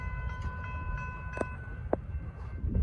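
Southbound Norfolk Southern or CSX freight train P09 rolls past with a low continuous rumble and rattling wagons, a distant horn tone sounding for the first half and sharp metallic squeals and clanks scattered through.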